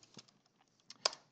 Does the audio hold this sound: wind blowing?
no